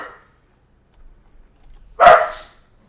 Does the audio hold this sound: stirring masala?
no